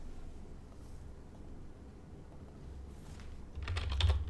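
Soft keystrokes on a computer keyboard, faint and close, with a short burst of louder clicks near the end.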